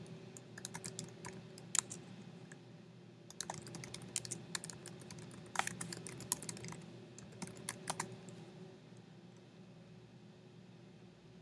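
Typing on a computer keyboard while entering student names into a spreadsheet: quick bursts of near, crisp key clicks with short pauses, heard alone without talk.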